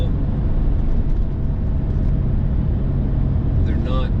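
A 1997 Porsche 911 993 Turbo drives along as a loud, steady, broadband road and engine rumble heard from inside the car; a brief whine appears near the end, and no one speaks.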